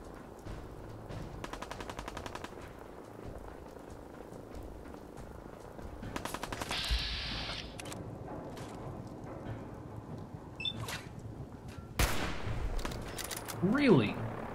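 Gunfire from the Fallout 4 video game comes as a few bursts of sharp rapid shots, separated by quieter stretches with a crackling background and a few louder cracks near the end.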